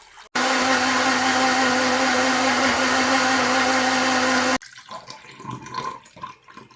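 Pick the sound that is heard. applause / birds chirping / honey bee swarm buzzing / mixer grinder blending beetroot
mixer grinder blending beetroot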